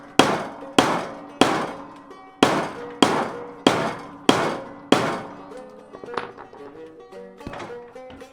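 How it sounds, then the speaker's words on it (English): Metal hammer blows on a bent wheel rim, straightening a leaking tubeless tire's wheel: seven loud, ringing clangs at an even, steady pace, then lighter scattered taps and a faint ringing tail. "Now I have fixed the bent wheel with a hammer before like this."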